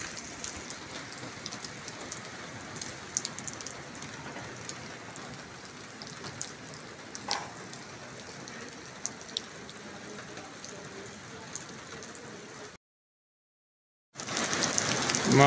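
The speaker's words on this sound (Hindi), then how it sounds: "बारिश का सिलसिला जारी और सारी और तेज़ तरीन बारिश।" Heavy rain pounds down in Haripur, Pakistan, in a constant roar of drops, briefly cutting to silence near the end before the downpour resumes.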